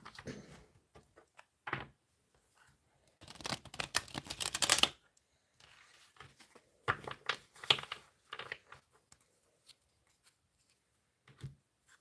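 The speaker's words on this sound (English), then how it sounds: "Let's do 3 shuffles." Quiet, close shuffling of tarot cards in several short bursts, riffling and flicking with pauses between, one longer flurry in the middle.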